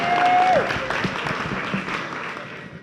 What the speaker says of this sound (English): let's give him a good virtual round of applause.